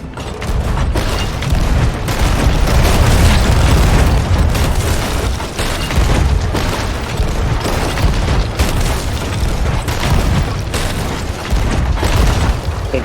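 Ship cannons firing in the pirate game Sea of Thieves, with loud, heavy booms arriving in a dense, steady barrage across the whole stretch, each blast rolling into the next.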